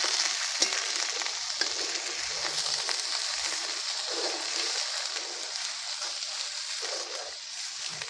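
Onion-garlic chutney masala paste fries in oil in a pan, giving a steady, close hiss and sizzle with soft stirring scrapes and no voices.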